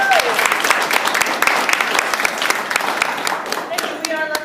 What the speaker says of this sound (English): I think these two deserve another round of applause.